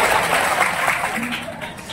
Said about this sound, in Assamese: হাত চাপৰি এটা বজাই দিয়ে